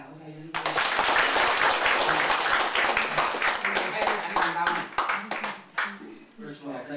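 Audience applause at a Buddhist dharma talk breaks out abruptly, a thick burst of clapping that thins and fades over several seconds before a voice comes in at the end.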